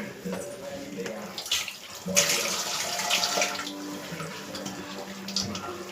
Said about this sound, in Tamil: கொஞ்சம் தண்ணி பிடிச்சி